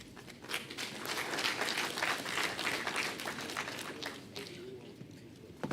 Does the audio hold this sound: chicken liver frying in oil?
no